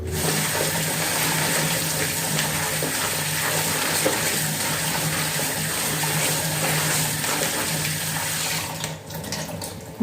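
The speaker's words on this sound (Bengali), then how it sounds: "ভালো করে ধুয়ে নিলাম" Cut vegetables, bitter gourd and potato, being washed under a running kitchen tap: a steady, loud rush of water splashing in a sink, continuous for several seconds before briefly thinning near the end, with no talking.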